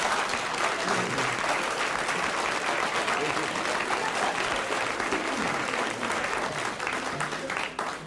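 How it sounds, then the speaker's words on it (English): A crowd applauds continuously throughout, a thick, even wash of clapping with some murmuring, holding steady before easing slightly at the close. "Oh, that applause is music in the ears."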